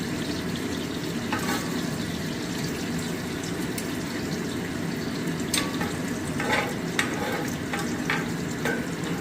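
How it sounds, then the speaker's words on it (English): Cooked bacon is shifted into a crock pot for a batch of competition chili, giving a steady broadband sizzle of hot fat with scattered clicks and scrapes of utensils against the pot, close and continuous, with no talking. "So I'm just going to Move my bacon into the crock pot."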